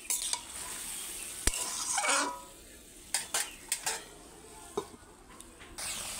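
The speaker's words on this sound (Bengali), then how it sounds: "এবার একটু গরম মশলা ছড়িয়ে দেবো, দিয়ে নেড়ে চেড়ে আবারও চাপা দিয়ে দেবো" Spoon scraping and stirring through a prawn and banana stem curry just sprinkled with garam masala, a soft sizzle underneath with several sharp clinks against the pan, close and alone with no talk.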